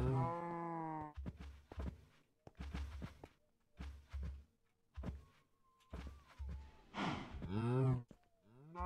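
Cows in a video game moo again and again, each call low and drawn out. Rhythmic game sounds and short bursts of other noise fill the gaps between the moos.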